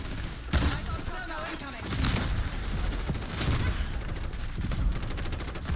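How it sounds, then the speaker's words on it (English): Rapid bursts of incendiary shotgun fire in a Call of Duty match crack out in several loud blasts, mixed with game noise and a voice talking over the action. "Fire shotgun, dude. Fire shotgun."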